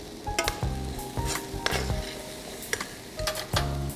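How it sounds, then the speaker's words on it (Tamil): Spices sizzle in a hot pan for grilled chicken rice while a utensil stirs and scrapes in repeated strokes, with clinks against the metal over a steady frying hiss, close up and without speech. "எல்லாம் ஸ்பைசஸ்லாம் போட்டு கொஞ்சம் மிக்ஸ் பண்ணிங்க நல்லா."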